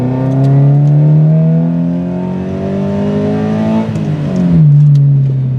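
A Toyota 86 sports car engine drones loudly up close, its pitch climbing steadily, dipping briefly at a gear change, then rising again in a strong, continuous revving roar.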